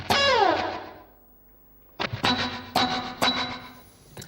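Electric guitar through a POD 2.0 amp modeler set for a rockabilly tone with slapback echo and spring reverb: a ringing chord decays with a short repeat, then after a pause several sharp twangy picked notes ring out, each trailed by a quick echo.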